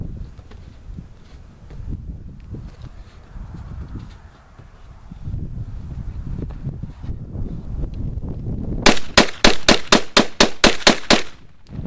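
Beretta 92 9x19 pistol with a blowback conversion firing a rapid string of about nine sharp, loud shots in quick rhythm outdoors, preceded by wind and rustling handling noise.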